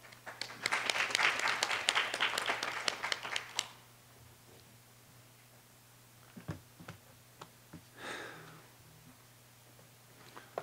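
An audience at a Korean network policy forum claps to welcome a National Assembly member, with a short burst of scattered clapping that stops after a few seconds, then a few faint isolated claps and a brief murmur in a quiet hall.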